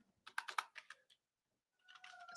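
Quiet clatter of a worn, battered computer keyboard: a short burst of quick keystrokes, a pause of near silence, then softer typing resuming, all close and faint.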